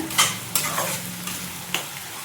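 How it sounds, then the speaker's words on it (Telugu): Green chillies fry in a pan for gongura chicken, a steady close sizzle with a few distinct scraping stirs of a spoon spread across the moment, no voices present. "ఇప్పుడు ఈ పచ్చిమిరపకాయలు వేసుకుందామండి. ఇది పచ్చి వాసన పోయేంత వరకు వేపుకోవాలండి"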